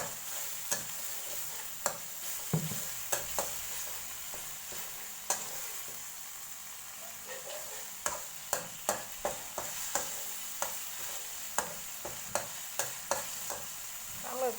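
Sizzling stir-fry of squid with chillies in a wok with repeated sharp scrapes and clanks of a utensil against the pan, irregular but frequent, close by.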